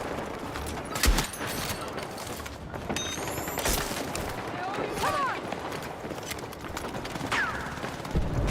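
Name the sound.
gunfire in the video game Counter-Strike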